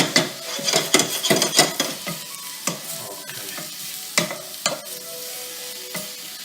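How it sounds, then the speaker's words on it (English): Mushrooms for a risotto sizzle and fry in a pan while a utensil stirs them, with repeated scraping strokes and clinks against the pan over a steady close sizzle, with no one talking. "Now what we do is cook the mushrooms"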